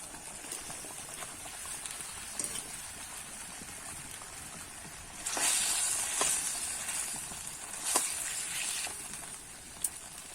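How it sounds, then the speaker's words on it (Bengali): Bhetki fish curry broth boils in a pan: a steady, soft bubbling hiss with occasional louder pops and sputters, close and alone. "দেখো ঝোলটা কিন্তু আমার ভালো করে ফুটে গেছে"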